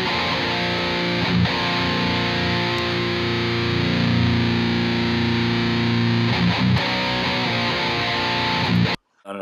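Heavily distorted metal guitars chug continuously in a dense, loud wall of sound, then stop abruptly near the end.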